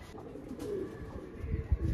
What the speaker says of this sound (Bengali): এটা একটা লাল কাট নর পায়রা